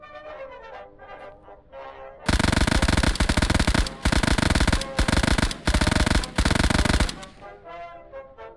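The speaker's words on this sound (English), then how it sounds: "Last but certainly not least, the MG42." A German MG42 machine gun in a video game fires several long, loud bursts of very rapid, buzzsaw-like fire, with brief pauses between them, up close and dominating the scene, bracketed by quieter ambient game sound.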